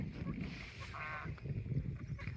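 Geese in a rural village honk a few times at close range, one clear nasal call standing out in the middle against a noisy outdoor background.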